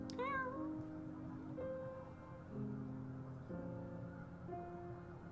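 A cat meows several times at a gentle, quiet level, the calls rising and falling in pitch and spaced out over a soft background of tonal music.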